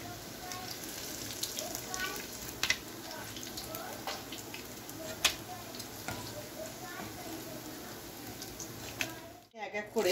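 Prawn fritters fry in hot oil with a steady close sizzle, broken by occasional stirring clicks and scrapes, under quiet background noise.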